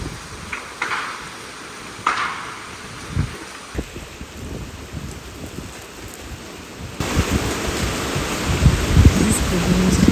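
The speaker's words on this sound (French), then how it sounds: "Je peux juste voir des éclairs moi en fait. Donc il pleut sa race." Heavy rain pouring down during a thunderstorm in Corsica, a steady wash of drops with a few soft rumbles, growing louder and denser in the second half.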